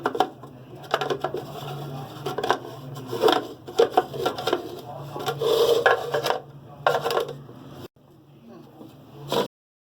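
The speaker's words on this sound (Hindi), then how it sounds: "इनको मैं दोनों को सिल में पीसूंगी" Poppy seeds and chickpeas ground by hand on a stone sil slab in a home kitchen, a close, steady rasping scrape with rhythmic strokes and brief pauses, ending abruptly.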